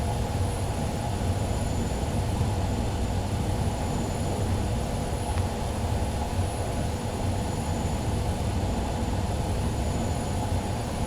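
In Train Sim 2021, a Class 47 diesel locomotive running between Doncaster and York gives a steady, continuous low rumble and drone with a rolling hum throughout, with no talk.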